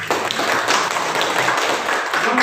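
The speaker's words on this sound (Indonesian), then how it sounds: "Ya, berikan tepuk tangan." A classroom of eighth-grade students applauds, a dense, steady wash of many hands clapping together for about two seconds, close and fairly loud with no talking over it.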